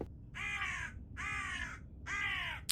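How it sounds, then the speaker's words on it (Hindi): Crows cawing at night near a railway crossing, three loud harsh caws spaced about a second apart, each drawn out and close, over a low background rumble. "इतनी रात को कौवे कहाँ बोलते हैं यार?"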